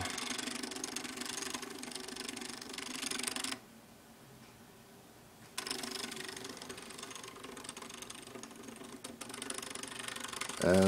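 An Arduino-driven stepper motor with a sonar sensor rotates back and forth, a steady close mechanical whirring that stops for about two seconds and then resumes, with no voices.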